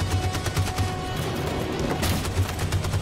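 Covering gunfire in the video game Detroit: Become Human, a steady stream of rapid overlapping shots under a continuous low battle rumble, with a louder burst near the end.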